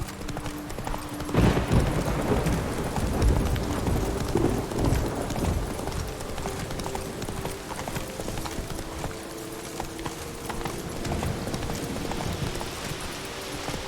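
Horse hooves clip-clop at a steady trot through Witcher 3 gameplay, the rhythmic beats continuous and fairly close over a low ambient bed, with a brief voice in the background.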